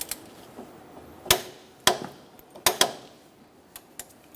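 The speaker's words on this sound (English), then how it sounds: "Using a 32mm axle socket, you're going to torque this, you're going to tighten and torque this to 200 foot-pounds." A 32mm axle socket tightening the front axle nut on a 2004–2009 Mazda 3, heard as a few sharp, irregular metallic clacks and knocks, close and fairly loud against a quiet background.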